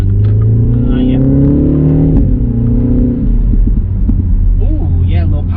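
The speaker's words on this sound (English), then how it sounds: "really punchy sounding exhaust. You even get little pops" Exhaust of a 2025 MINI Countryman JCW revving, a deep droning rumble that rises and settles, followed by a few small crackling pops toward the end, heard close with a person talking over it.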